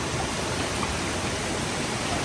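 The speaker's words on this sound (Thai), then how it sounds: "น้ำก็ไหลมาจากน้ำตก" Water pours from the Khlong Lan waterfall in a steady, dense rush of broadband noise, close and unbroken with no voices over it.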